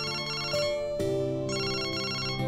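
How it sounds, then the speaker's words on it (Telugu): A phone rings with an incoming call, a melodic electronic ringtone playing clearly in repeated phrases with short pauses between them. "చూసావా, మళ్ళీ ఫోన్ చేస్తున్నాడు."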